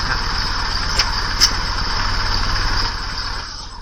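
A steady machine engine hums in the Sherlock Holmes Crimes & Punishments video game, a constant droning tone with two faint clicks, easing slightly toward the end.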